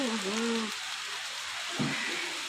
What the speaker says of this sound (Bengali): দেখো বৃষ্টি পড়ছে বৃষ্টি পড়ছে বৃষ্টি পড়ছে